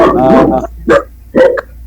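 A dog barks in short bursts: a longer, harmonic opening yelp followed by two brief barks spaced apart, fairly close and clear, with a faint low hum underneath.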